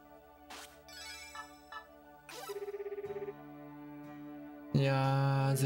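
A synthesized phone-call ringtone from the video game Tokimeki Memorial 4 plays as a series of bright electronic tones, with a warbling trill and a louder final chime, clean and up close.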